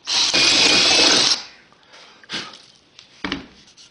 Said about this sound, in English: I'm using a 1/2 inch drill here, just to give myself a little bit more tolerance.